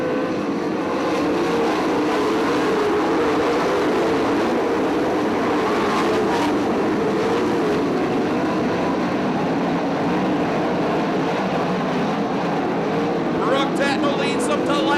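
A pack of 410 sprint cars races at Attica Raceway Park, a loud unbroken engine roar filling the whole stretch, with a voice talking over it.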